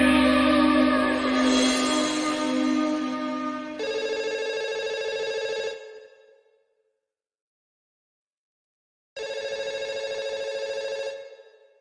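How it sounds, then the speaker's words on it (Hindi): A telephone in a Hindi film rings in two long electronic bursts separated by a few seconds of silence, loud and close, the first overlapping fading music. "आहना, जरा फोन देखना।"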